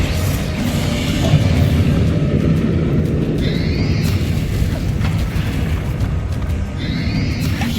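Booming spell explosions from Bombarda and Confringo in the video game Hogwarts Legacy, a dense continuous rumble of blasts and bursts with sharp magical whooshes over it, loud throughout.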